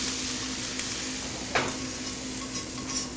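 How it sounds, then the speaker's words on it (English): Onions sautéing in vegetable oil in a wok keep up a steady, moderate sizzle and hiss, with a soft stir or scrape of the pan near the middle and a few faint clinks. "this has been sauteing now or frying for about 4 minutes"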